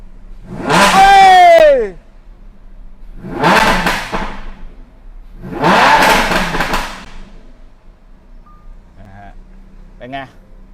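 Lamborghini Huracan LP610-4 V10 engine revving in three loud, close blips of about two seconds each, separated by brief gaps; a few faint short sounds follow at the end.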